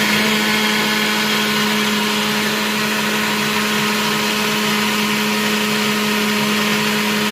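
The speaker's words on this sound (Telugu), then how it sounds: "ఇది కొంచెం చల్లారాక మనం మిక్సీలో వేసి చాలా గ్రైండ్ అయిన తర్వాత మళ్ళీ పోపు వేసుకోవచ్చు" A mixer grinder grinding chutney, a loud, steady, high-pitched motor whine running continuously without a break and heard alone.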